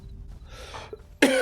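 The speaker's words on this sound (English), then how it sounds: "Oh, man. Starting to get the cough." A single short cough near the end, sharp and loud, preceded by faint quiet background.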